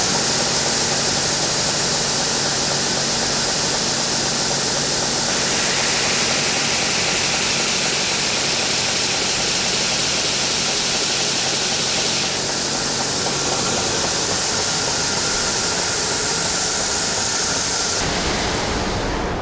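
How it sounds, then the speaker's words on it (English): An edge belt sander runs loud and continuous as a workpiece is fed against the belt, a dense broadband roar that shifts slightly in tone as contact pressure changes, then cuts off near the end. "So you could see how I gradually fed the work into the belt, trying to keep it parallel."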